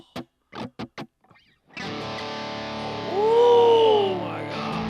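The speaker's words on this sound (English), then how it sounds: "Wow, that might be the best distortion pedal we got." Distortron distortion pedal driving an electric guitar: a few short plucked notes, then a sustained, thick distorted chord that swells louder and carries a bending, wailing lead note over it, heard alone.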